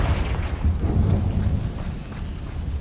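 A Confringo spell in Hogwarts Legacy explodes as a deep, rumbling boom, with the heavy low blast rolling on and fading over a few seconds.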